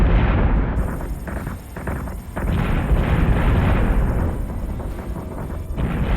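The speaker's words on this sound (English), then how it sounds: "They are so slow firing those top cannons." Ship cannons fire in Battlestar Galactica Deadlock, a space battle with enemies jumping in: a dense, loud, continuous rumble of heavy booms and blasts that barely lets up across the stretch.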